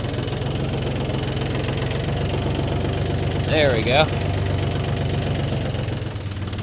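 A four-wheel drive tractor's diesel engine runs in frozen mud on a homestead, a steady loud close rumble with knocking vibration throughout, and a person speaks briefly partway through.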